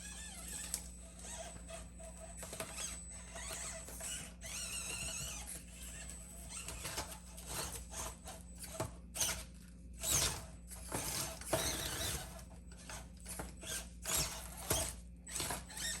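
A Bronco-bodied mini RC crawler grinds over an obstacle, giving faint, continuous whirring gear noise broken by scattered clicks and scrapes, with no talk.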